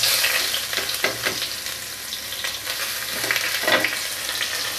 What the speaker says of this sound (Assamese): এতিয়া কাটি থোৱা পিঁয়াজখিনিও দি দিছোঁ।